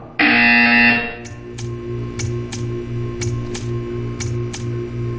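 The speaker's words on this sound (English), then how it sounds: "You will hear a buzzer." A loud, steady electronic buzzer from the video game Portal 2 sounds for about a second, then a series of sharp, evenly spaced clicks or ticks follows over a low hum.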